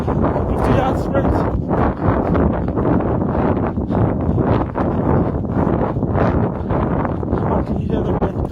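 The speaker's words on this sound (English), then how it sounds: "Can you hear the wind?" Strong wind buffeting a microphone outdoors during a run, a loud continuous roar with gusting swells and rustling, steady and close throughout.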